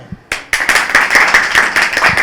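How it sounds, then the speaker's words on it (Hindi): A school audience breaks into clapping after a quiz answer on a TV show; a few sharp claps lead in, then a close, loud burst of many hands clapping fast and unevenly. "तालियां।"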